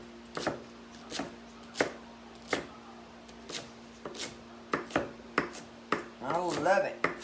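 Fresh celery chopped on a cutting board, a series of crisp, irregular knife thuds close up, ending in a quick flurry of faster chops.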